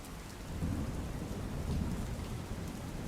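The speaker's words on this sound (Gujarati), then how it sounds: "ક્યાંક ધોધમાર તો ક્યાંક હળવો વરસાદ વરસ્યો" Steady rain pouring down in Virpur, Gujarat, a dense continuous hiss with low rumbling, alone and without voices.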